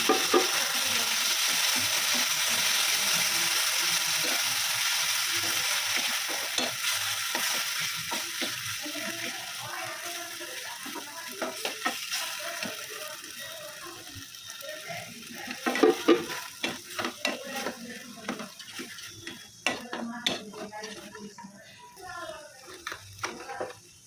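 Pav bhaji sizzling in a pan as tomato puree and capsicum are stirred and fried, a steady close frying hiss with scraping strokes and occasional clinks of the utensil against the pan, continuing for the whole stretch.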